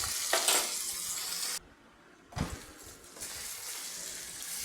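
Ground spice paste with salt and turmeric hitting hot oil for tempering, giving a bright, close hiss and sizzle that cuts out briefly, then returns with a sharp spatter and settles into a softer, steady fry.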